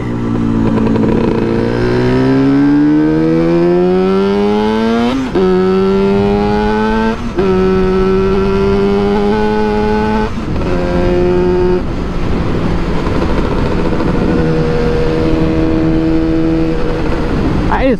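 An air-cooled two-stroke motorcycle is ridden, its engine rising in pitch through several gear changes, loud and close throughout.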